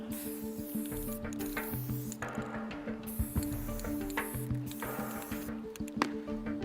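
A spray paint can hisses in repeated bursts, close and steady, over a faint background with tonal hum, on a talent-show stage.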